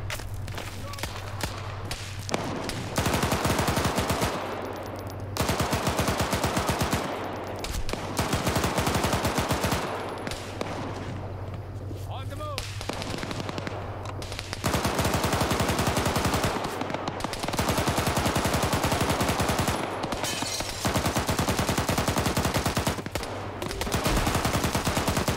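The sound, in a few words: gunfire from a video game, HEDP gunner firing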